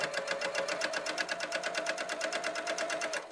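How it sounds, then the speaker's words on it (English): A sewing machine stitching a slip pocket runs steadily and close, with a fast, even mechanical rattle and a constant whirring hum, no voices. "I'm going to sew up my pocket that I'm going to use in the back, my slip pocket."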